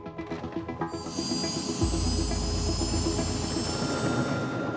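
A US police helicopter's turbine whines loudly and steadily up close, with a deep, throbbing rotor rumble underneath.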